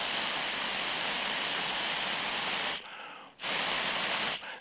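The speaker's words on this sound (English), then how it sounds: "Now this is a kind of a blowing straw" Breathy blowing through a simple homemade straw toy, a sustained rushing hiss broken by two short pauses as the breath is taken again, close and fairly quiet.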